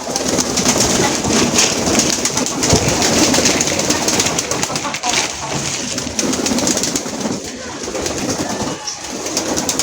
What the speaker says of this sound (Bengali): এখন কবুতরকে দিব না